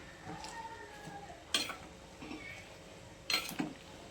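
A spoon scrapes and clinks against a pot of simmering lentils with spinach, tomato and pepper, giving two distinct knocks amid a soft, steady cooking murmur.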